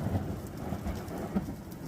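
Hailstorm in Raynham, New England, with a steady roar of rain and hail pelting outdoor surfaces and a low thunder rumble underneath, dense and continuous throughout.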